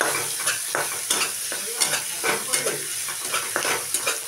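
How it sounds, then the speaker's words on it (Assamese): Chopped onion sizzles in a hot pan while being stirred, a steady frying hiss broken by repeated scraping strokes of the spoon at a close, even rhythm. "কাটি থোৱা পিয়াজখিনি দি দিলো এইখিনি অকণমান লৰাই দিম"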